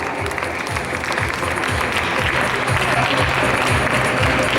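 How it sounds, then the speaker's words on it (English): Audience applause at a school PYP 5 graduation ceremony, a dense steady clapping from a crowd that holds at a fairly loud, even level throughout, with some low rumble beneath. "Big round of applause, please."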